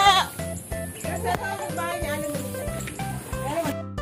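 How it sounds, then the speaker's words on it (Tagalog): Several goats in a farmyard in Lumban, Laguna bleat repeatedly and close by in short, wavering calls, while people talk over them. "Ang dami mo palang kambing,"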